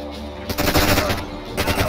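Rapid gunfire rattles through the tactical shooter Door Kickers 2, with loud bursts filling most of a brief moment.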